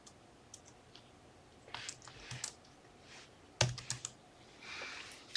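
Number keys on a computer keyboard are tapped in short, irregular bursts of close, crisp clicks, with one sharper keystroke near the end in a quiet room.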